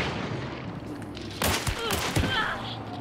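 Heavy PAX True Shot gunfire in Hunt: Showdown: two or three sharp, booming shots ring out in quick succession over a low ambient bed, loud and close, with a voice reacting around them.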